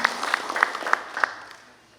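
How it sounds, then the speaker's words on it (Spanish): An audience at an evening lecture claps, with a burst of applause whose distinct claps ring out clearly before fading away over two seconds. "Así que por favor lo recibimos con fuertes aplausos"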